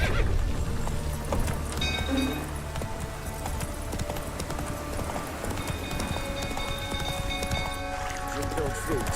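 Horse hooves clip-clopping at a gallop in The Witcher 3, steady and close throughout, with a horse whinny and voices talking over the hoofbeats.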